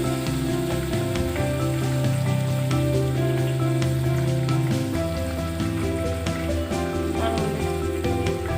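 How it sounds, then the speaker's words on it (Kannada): Chopped onion, tomato and green peas fry in a hot pan, a steady, close crackling sizzle that holds even throughout, with soft music playing in the background. "ಚೆನ್ನಾಗಿ ಫ್ರೈ ಮಾಡ್ಕೊಳ್ಳಿ. 2 ನಿಮಿಷ ಕಾಲ."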